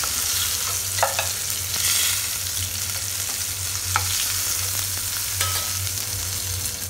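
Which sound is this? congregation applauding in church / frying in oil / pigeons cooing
frying in oil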